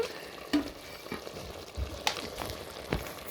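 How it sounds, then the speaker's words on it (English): Nigerian light soup bubbling in a pot on the stove, with a low steady simmer broken by a few sharp knocks of a spoon against the pot. "Our light soup is here cooking."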